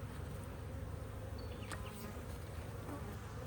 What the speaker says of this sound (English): There are quite a few worker bees